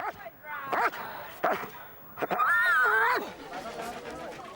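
Street dogs in Bangladesh barking and yelping in short bursts, close and fairly loud, with a longer whining yelp near the end; no talk over it.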